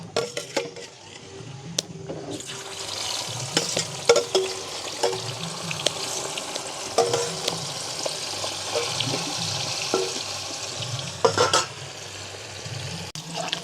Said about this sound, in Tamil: இறாலும் பொரிக்க முடிய